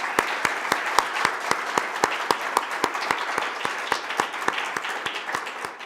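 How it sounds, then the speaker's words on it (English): Steady applause from a crowd for presenters at a talk event, with sharp individual claps repeating in a fast, even rhythm over a dense wash of clapping. "I think all the presenters need another hand of applause."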